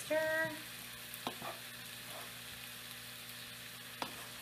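Rice is stir-fried with soya sauce in a pan, giving a faint, steady sizzle broken by a few light clanks of the spoon against the pan.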